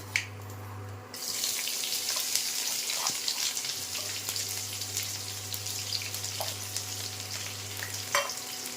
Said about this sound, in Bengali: তারপরে এটাকে গোল্ডেন ব্রাউন করে ভাজতে হবে